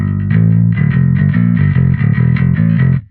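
Heavily distorted electric guitar played through a 10-inch speaker, chugging sustained chords with a thick, solid low end, loud and continuous for about three seconds with no talking.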